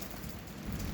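Heavy rain mixed with hail pours down in a dense, steady roar, loud and continuous for a brief moment.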